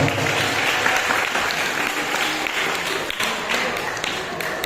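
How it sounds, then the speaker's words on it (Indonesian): Audience applause fills a school welcoming event at SMA Negeri Kesamben for newly accepted students, steady dense clapping from a crowd throughout, loud and close, with a few sharper individual claps standing out. "Tepuk tangan untuk kita semua"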